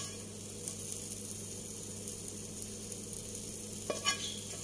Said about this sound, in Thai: ที่บ้านปู่จะผัดแห้งๆแบบนี้นะคะ